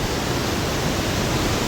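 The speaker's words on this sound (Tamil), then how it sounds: "இதுதான் அந்த அருவி." A waterfall roars in a steady, dense wash of rushing water, loud and close, unbroken for the whole stretch with no voices over it.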